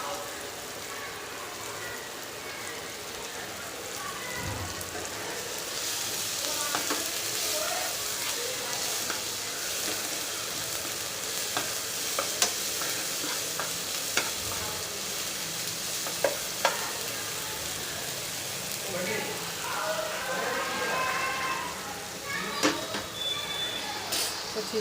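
Cut corn fries slowly in a pan for chevdo, giving a soft steady sizzle with occasional stirring scrapes and a few sharp clinks of utensils against the pan.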